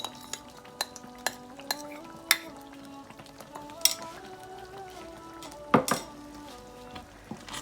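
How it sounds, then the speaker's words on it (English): Leftover palm oil going into a pot of seafood okra soup: a quiet simmer broken by sharp metallic clinks and scrapes of a spoon against the pot, spaced irregularly throughout. "now let me go on and add the palm oil that was left from earlier"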